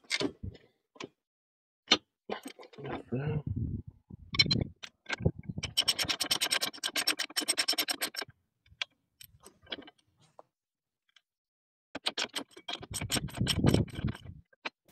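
Ratchet wrench tightening bolts during installation of a three-point hitch on a 2022 John Deere 2025R Gen 2 compact tractor: bursts of rapid metallic clicking and ratcheting, separated by clinks, pauses and quiet gaps, close and fairly faint.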